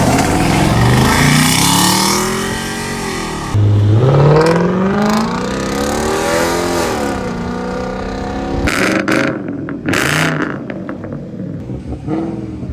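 An Audi A8 with an aftermarket exhaust, heard from inside the cabin, revs and drones through rising and falling engine pulls, loud and close, with a few sharp bursts late in the run.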